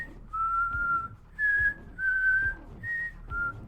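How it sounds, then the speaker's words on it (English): A man's slow, sinister signature whistle from The Walking Dead echoes through an abandoned warehouse, a clear, near tune in several drawn-out phrases separated by brief pauses, with faint low rumbling beneath. "that freaking that like sinister ass whistle"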